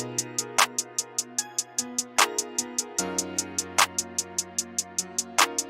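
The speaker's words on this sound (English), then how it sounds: "I like to pitch my hi-hats down depending on what I'm doing" Deep hi-hat ticks, pitched down by 2 in FL Studio, repeat in a steady rapid rhythm over a looping beat with low bass tones and occasional accents.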